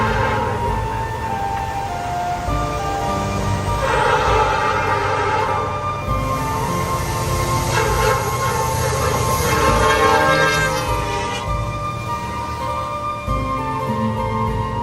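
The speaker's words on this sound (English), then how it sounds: "I only saw one train here, which was 105 with 2 EMD power." A freight train led by two EMD locomotives rounds a corner at a rural crossing, a loud steady rumble with sustained horn-like tones and crossing signals throughout, no talk.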